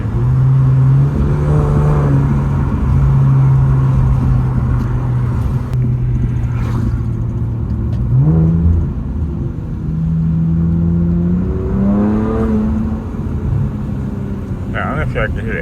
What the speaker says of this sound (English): I don't know if y'all can hear the intake now.